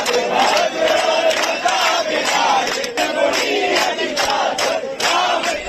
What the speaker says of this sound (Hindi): लोग हनुमान चालीसा का पाठ कर रहे हैं, भजन गा रहे हैं, भारत माता की जय का नारा लगा रहे हैं।